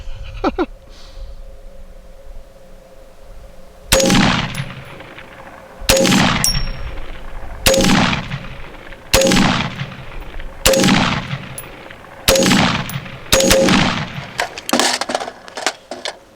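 An FN PS90 bullpup rifle fires about eight sharp, loud, close shots, a second or two apart, each leaving a short metallic ring as it fades, with no talking between them.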